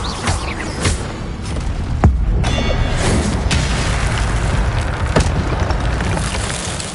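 An Incendio fire spell is cast in Hogwarts Legacy, a loud roaring burst with sharp booming hits near two and five seconds over a steady rushing bed of game ambience, with no talk.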